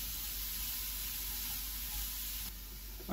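Rabbit meat fries in a pan with a constant close sizzle and hiss that holds level throughout, then dips slightly near the end.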